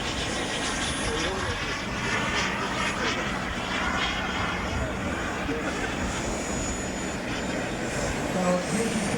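A Boomerang model jet aircraft flies at a Scottish model airshow, its engine droning steadily at a distance while a commentator speaks over it.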